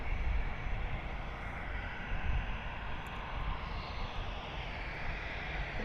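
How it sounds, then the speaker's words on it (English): Airplanes taxiing on the taxiway at Toronto Pearson (YYZ) airport, a steady broadband engine rumble and hiss held at a fairly even level throughout, somewhat distant, with no talking. "we have some planes ready for departure. They're just on the taxiway."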